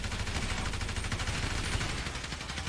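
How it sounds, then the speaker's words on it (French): Gunfire at police cars in the GTA V video game rolls out as a dense, continuous barrage of rapid shots, loud and close, with no pauses. "On tire à 3, 1, 2, 3."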